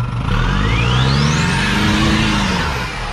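A Nissan NP300 pickup with diff lock engaged revving hard on a muddy track, a loud sustained engine roar rising in pitch and then easing slightly, heard up close.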